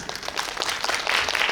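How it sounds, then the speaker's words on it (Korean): Cinema audience at a guest-visit film screening applauds in a short burst of close, uneven clapping that swells toward the end. "박수 한번"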